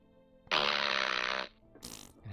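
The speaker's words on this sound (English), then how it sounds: "fart noise." A loud, buzzy fart sound effect lasting about one second, rising abruptly and cutting off, followed by brief scattered noises and a low tone at the end.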